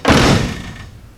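A 1968 Plymouth Barracuda door shuts with one loud, solid thunk that rings briefly and fades. Nobody speaks.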